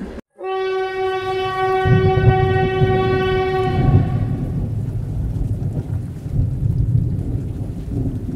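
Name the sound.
train running with horn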